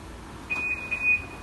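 A Honda Civic FD 2.0 smart keyless alarm sounds as the car auto-unlocks, giving a thin high-pitched beep with a brief stutter, moderately loud over faint background hum.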